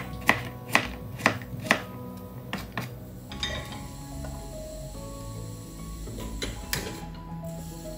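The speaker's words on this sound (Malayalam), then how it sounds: "ചേന നന്നായിട്ട് കഴുകി വൃത്തിയാക്കിയിട്ട് കുറച്ച് കഷ്ണങ്ങളാക്കിയിട്ട് കട്ട് ചെയ്തെടുക്കാം" Elephant foot yam being chopped into medium pieces with a knife on a board, about five sharp, evenly spaced cuts early on, then a few scattered knocks over a low steady kitchen hum.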